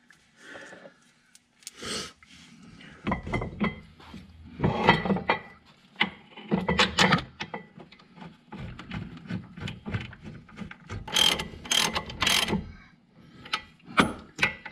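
A ratchet snugs up the caliper bolts on a C5 Corvette during a brake caliper change, with bursts of quick clicking and metallic knocks coming in irregular clusters close by.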